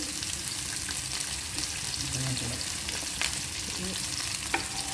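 Onions frying and being stirred in a pan for turkey biryani, a steady close sizzle with scraping spoon strokes throughout, no talking.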